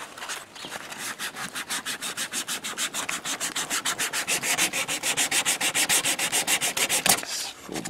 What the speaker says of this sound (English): We will go ahead and finish our sanding of it.